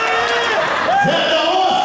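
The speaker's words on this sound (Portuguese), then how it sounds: "Eu queria que vocês recebesse com muito, mas com muito aplauso" Crowd at a forró show cheering and whooping as a performer is welcomed, a steady dense roar of voices throughout with rising shouts near the middle.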